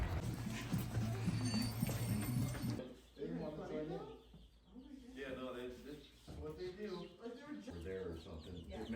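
Baby chicks in a farm and garden store peep and cluck up close in bursts alongside a rooster-like clucking, while people chat casually over the birds.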